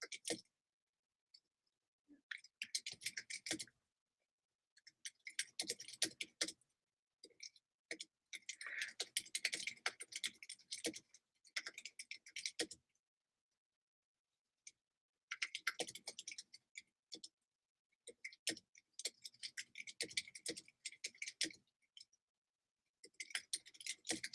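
Typing on a computer keyboard, quiet bursts of rapid close clicking separated by pauses of silence, with no talking.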